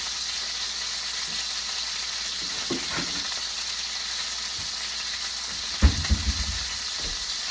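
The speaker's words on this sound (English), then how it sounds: "my God, those steaks are loud. I got 2 steaks here cooking." Two big steaks sizzling loudly in a pan, a constant dense hiss with a few clatters and bursts of louder spattering near the end.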